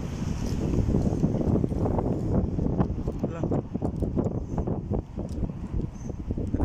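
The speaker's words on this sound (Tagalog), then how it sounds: "Ang hangin sa labas." Gusty wind buffets the microphone in rough, continuous rumbling bursts, with a voice talking over it.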